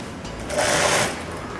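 A sewing machine stitches piping onto a blouse in one short steady run, its motor whirring close and evenly with no talk.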